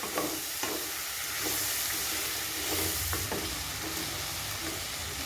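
Mushrooms sautéing with salt in a pan for mushroom pulao, with a steady close sizzle and repeated scraping stirs of a spoon against the pan, no talking.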